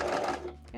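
Close, steady whir of a sewing machine running briefly as it back stitches fabric on an apron, slowing slightly near the end.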